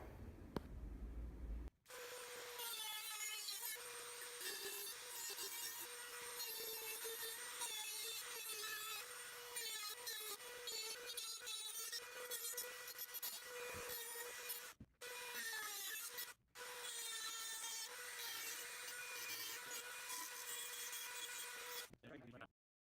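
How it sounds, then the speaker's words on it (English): A Dremel rotary tool whines at high speed while cutting a part out of scrap steel for a Honda CBR600RR cam chain tensioner tool, grinding steadily with a few brief pauses. "the next step is just to take a Dremel tool and cut that out"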